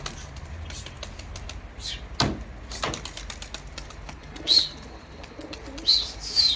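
A pigeon coos softly several times, with occasional chirps and faint clicking in a quiet setting, no talking.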